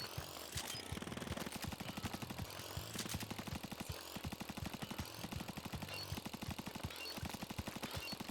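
Rapid, loud bursts of automatic fire from an ink weapon in a video game, with a steady rhythmic stream of shots broken by brief pauses for recharging, no voices.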